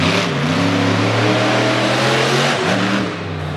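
Mike Vaters II's Overkill Evolution monster truck roars at a Brookville, Pennsylvania monster truck event, its big engine revving hard in a loud, sustained growl with rising and falling pitch before easing off near the end.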